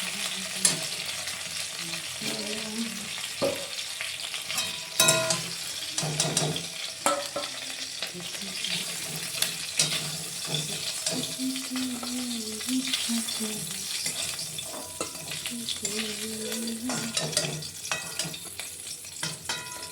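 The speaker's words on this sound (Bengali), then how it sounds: "মাছগুলো একদম ভাজা হয়ে গেছে এপিট ওপিট।" Koi fish sizzle and crackle steadily in hot oil in a Bengali kitchen, with a dense, continuous frying hiss and scattered pops and stirring clatters.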